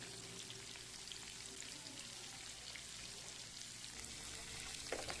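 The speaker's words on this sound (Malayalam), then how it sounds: "മീൻ ഇട്ട് കൊടുക്കാം ഒരു സൈഡ് മൂത്ത് വരുമ്പോൾ നമുക്ക് തിരിച്ചിട്ട് കൊടുക്കാം" Fish pieces for fish pickle fry in leftover oil with a soft, continuous, rain-like sizzle, fairly faint and steady, and a slight rise near the end.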